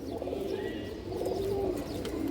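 A Jaggola female pigeon of an old line, lace-black with a crested head, cooing softly and steadily at close range, with a faint murmur of background activity and no clear speech.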